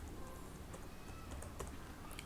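Someone types steadily on a computer keyboard, entering an enrollment number into a registration portal. The keystrokes are soft and close over a constant hum of background noise.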